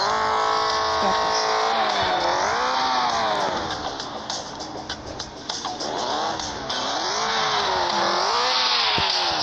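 Loud revving car engine of the Shuriken vehicle in Turbo Dismount, its pitch rising and falling in repeated sweeps as it accelerates and slows, with a brief skid or tire squeal, close and continuous with no talk.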